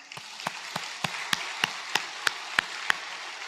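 Within a church congregation, a single pair of hands claps about ten times in a slow, even rhythm, each clap crisp and close over a quiet room.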